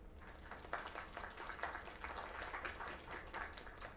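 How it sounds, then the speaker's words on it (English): Steady video game crowd applause with dense clapping throughout, moderately loud and continuous, no voices standing out. "Another round of applause."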